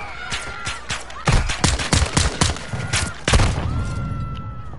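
Gunfire in a shooter game, a cluster of loud rapid shots and thumps crowding the middle seconds, close and sharp, then fading to a quieter tail.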